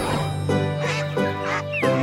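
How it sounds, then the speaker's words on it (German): A duck quacks several times in a quick, uneven series, loud and near, with harsh nasal calls. "Mama Ente mit ihren Entlein."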